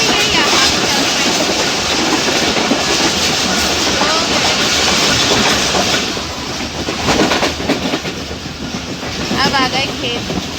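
A Pakistan Railway passenger train on the Peshawar to Karachi route rolls along its rails with a continuous loud rumble and rhythmic wheel clatter, heard close from on board, easing slightly partway through.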